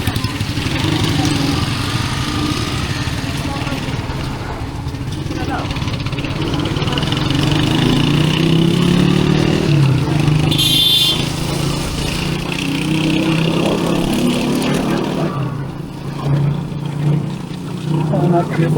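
Motorized tricycle engine running while riding, a continuous close buzzing drone with road rumble that swells and eases over time, with people talking over it throughout.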